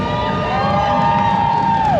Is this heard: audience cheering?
yes